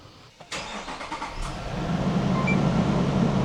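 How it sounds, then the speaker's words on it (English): A Toyota car engine cranks briefly and catches after two weeks of storage, then settles into a rising, steady idle close by. "Let's see if my car can still start after storing here for 2 weeks."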